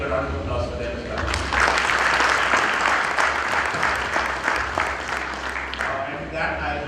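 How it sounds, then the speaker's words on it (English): Sustained audience applause for the jury at a Next 100 event in Pune, loud and dense, swelling after a quieter opening second and holding steady with a murmur of voices mixed in. "So I would really like to give a round of applause for them as well."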